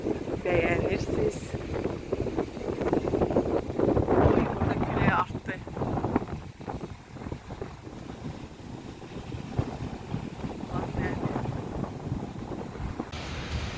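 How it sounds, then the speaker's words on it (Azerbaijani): Gusty outdoor wind buffets the microphone in a city street, a loud, continuous low rumble that swells and eases throughout, with a voice faintly present beneath it. "burada külək artdı."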